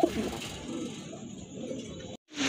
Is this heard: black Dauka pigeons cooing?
yes